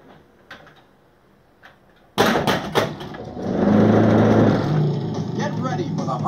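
A Harley-Davidson pinball machine powers on with sharp mechanical clacks and knocks, then a loud electronic whir and jingle swell and continue steadily.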